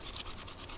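Brisk scrubbing of apples with a brush, a quiet rapid rasping that repeats in short strokes, close and alone for under a second.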